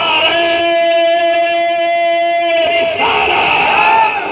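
A large crowd at a religious gathering roars back in unison to a slogan, one sustained loud chant that breaks into a second ragged shout, close and dominant.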